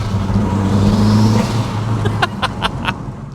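A Ford Focus RS Mk1 with its turbocharged engine revs up in a low steady drone that climbs and then eases off, with sharp clicks and turbo chatter near the end, loud and close.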